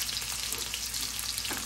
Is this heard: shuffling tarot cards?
no